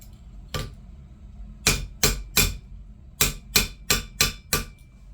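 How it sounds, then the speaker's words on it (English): Sharp close hammer strikes on 18 gauge copper wire being crimped into heart shapes, one lone tap followed by quick clusters of three and five metallic blows, no speech. "Hammer crimping, that part is important,"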